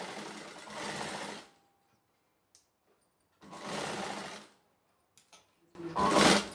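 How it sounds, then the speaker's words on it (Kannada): Sewing machine running in three short bursts with quiet pauses between, a close, steady mechanical whir, stitching the lining of a work blouse with small stitches. No one speaks. "ನಾನು ಸಣ್ಣ ಹೊಲಿಗೆ ಇಟ್ಕೊತಿದ್ದೀನಿ."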